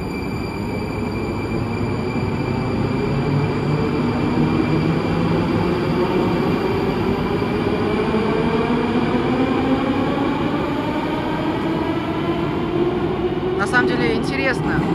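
A Moscow metro train of type 81-740A runs on the Butovskaya line, with a steady, loud rumble and rising whine of motors throughout and a voice talking over it.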